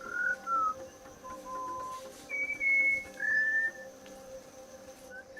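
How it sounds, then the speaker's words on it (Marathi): Malabar whistling thrush singing in forest near Kolhapur: several clear, fluting whistled phrases, some rising and some sliding, spaced across the stretch with pauses between, moderately near over a faint steady insect drone. "अशातच एखादी सुरेल शीळ ऐकू येते. कोणी एखादी व्यक्ती सुरेल शीळ घालत आहे असा भास होतो. हा आहे मलाबार व्हिस्लिंग थ्रश."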